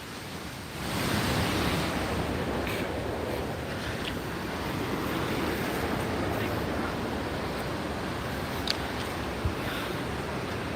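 Continuous surf rolls in on the Tenerife seaside, with gusting wind rumbling across the microphone and a couple of faint clicks late on.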